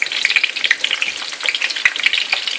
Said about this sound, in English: here we have some fresh oil again, and we're going to go ahead and fry up our onions